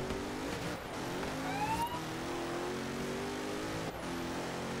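A steady car engine hums and revs continuously in Forza Horizon 3, with a brief siren-like rising tone in the middle.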